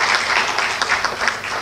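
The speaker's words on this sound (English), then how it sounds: "A round of applause for her." An audience at a university GIAN programme event gives a round of applause, with a continuous, fairly loud wash of many hands clapping and brief sharper claps standing out.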